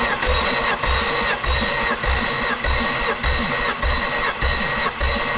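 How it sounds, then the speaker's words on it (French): An Alfa Romeo Busso V6 from a 155 DTM donor car, suspected of a faulty injector, runs loudly and close up with a rhythmic, uneven pulsing beat repeating about twice a second. "11 bars, il marche le moteur."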